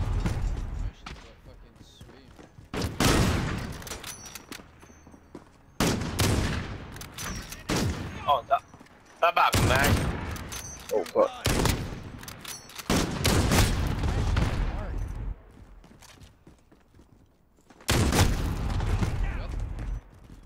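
In a Call of Duty team deathmatch on the small Shipment map, AX-50 sniper rifles fire in sharp, loud single cracks spaced several seconds apart, with game noise and players talking between the shots.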